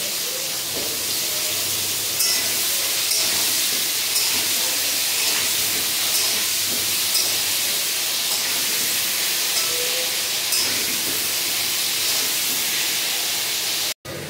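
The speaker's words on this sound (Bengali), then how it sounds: "এভাবে একটু হালকা 2-3 মিনিট লাল লাল করে ভেজে নিলে আলুর টেস্টটা খুব ভালো আসে।" Potato pieces frying in hot oil for a crab curry, giving a continuous broad sizzling hiss at close range, steady throughout and ending with a brief knock.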